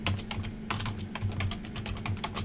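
Typing on a computer keyboard, a rapid run of close, crisp key clicks in an uneven rhythm with a low hum underneath.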